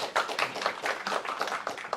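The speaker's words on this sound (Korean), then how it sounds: "경산호위의 문성현 위원장님을 좀 박수를 모시겠습니다" A small gathering at a labor and social dialogue forum gives a short round of clapping to welcome a committee chairman, with individual claps audible in an uneven rhythm close by.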